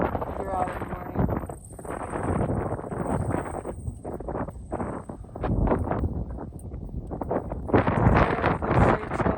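Strong, irregular wind gusts from a severe windstorm buffet the microphone with broadband roaring and thumping that rises and falls throughout, growing louder toward the end.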